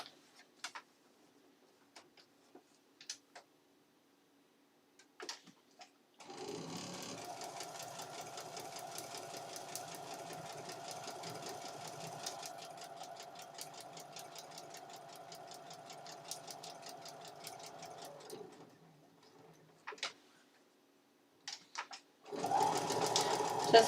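A sewing machine stitches half-square triangle quilt blocks along a dotted line. After a few scattered clicks, it runs in a steady, rapid, close mechanical whir for about twelve seconds, falls silent, then starts again louder near the end.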